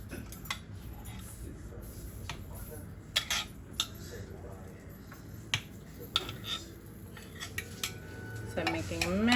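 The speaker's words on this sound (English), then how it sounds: "you shouldn't use a butter knife to scrape out" Butter knife scraping and clinking against the nonstick plates of a Dash mini waffle maker, a string of faint, sharp metallic taps and scrapes at an irregular pace, with a soft clatter near the end.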